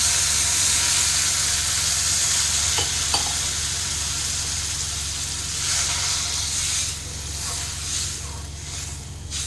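Water poured into a hot pan of egg curry with cooked-down tomatoes sets off a loud, steady sizzle and bubbling hiss that eases slightly toward the end.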